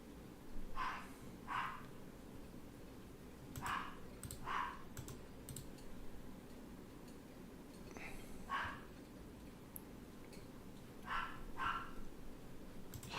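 A dog barks indoors at home in short pairs of yaps, repeated several times at a moderate distance over a steady background hiss.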